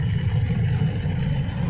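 Jet aircraft engine noise in the video game PowerWash Simulator, a steady low rumbling roar that holds at an even level throughout, with no talk over it.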